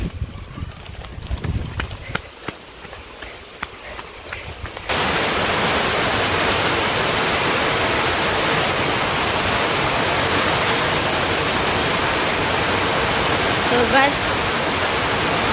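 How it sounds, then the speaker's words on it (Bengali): Outdoor rain setting in, quiet and sparse at first, then a sudden dense, steady roar of downpour from about five seconds on, with a faint voice early on. "এই জুড়ে বৃষ্টি নামছে এখন আমি দৌড় দিব বাড়ির দিকে"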